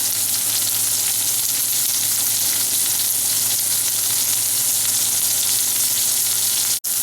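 Beef chuck roast searing in a hot pan, a loud, constant sizzle and frying hiss that holds steady throughout, with a brief dropout near the end.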